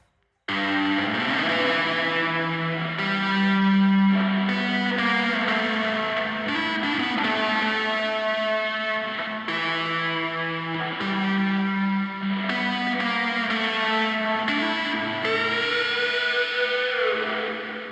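Vintage-style guitar sample run through a Guitar Rig rock preset with compressor, EQ, delay and reverb, giving a loud, distorted, chorused tone that plays continuously with sustained chords and melodic lines, alone with no talking.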